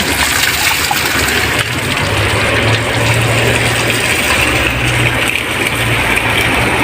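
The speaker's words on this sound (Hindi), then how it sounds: "ये पानी बर्बाद भी नहीं हो रहा, देख सकते हैं आप लोग, यहाँ पे आके जमा हो रहा है।" Water gushes steadily and loudly at a coal loading site, a constant rushing wash with a low mechanical hum underneath throughout.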